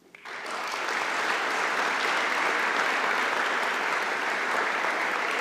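Audience applause at an award ceremony rises quickly and then holds as a steady, full wash of many hands clapping.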